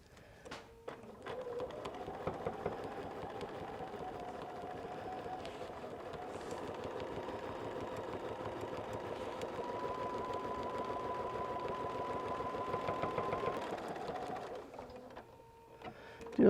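Sewing machine stitching straight across a quilt pocket, a steady fast mechanical whirr running continuously for most of the stretch before stopping near the end, close and alone without talk.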